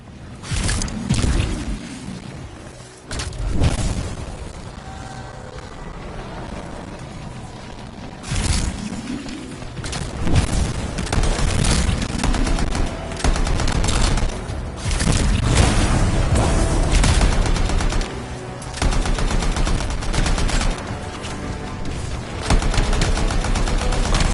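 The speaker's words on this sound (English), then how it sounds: "It'll be a contained explosion." Sustained bursts of gunfire and booming blasts from the video game Anthem, a loud, continuous barrage of fusillades and explosions with brief lulls between volleys.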